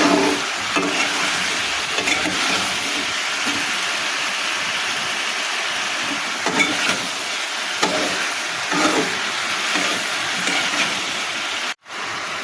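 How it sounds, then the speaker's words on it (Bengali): Vegetables with soy sauce being stirred in a pan, a continuous sizzle with soft repeated scraping strokes of a utensil, steady and close, cutting off briefly near the end. "ভালো করে নেড়ে নেব।"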